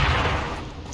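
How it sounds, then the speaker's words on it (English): A video game explosion bursts as a loud, broad blast that starts heavy and decays over about a second, with no voices. "I just got oofed by an explosion."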